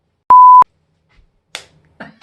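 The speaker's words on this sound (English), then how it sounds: "Dad's alarm is going off so that we remember to do our squats" A single loud electronic alarm beep, short and steady, followed by faint clicks and rustling in near silence.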